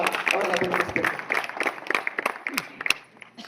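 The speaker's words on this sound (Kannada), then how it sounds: "ದಯಮಾಡಿ ಜೋರಾಗಿ ಚಪ್ಪಾಳೆ ಮುಖಾಂತರ ಅವರನ್ನು ಅಭಿನಂದಿಸಬೇಕು" Audience at a ceremony honouring a community worker claps in scattered, crowd-wide applause, loud at first and thinning toward the end, with murmuring voices mixed in.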